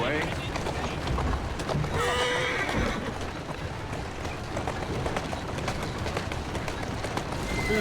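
In Assassin's Creed Syndicate, a horse neighs and gallops, a steady drumming of hooves running under a brief whinny, loud and close, with street noise mixed in.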